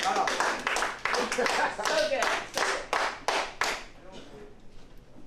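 Wrestling audience clapping for a wrestler, a ragged run of about a dozen close hand claps at a steady beat that thins out toward the end, with voices talking over it.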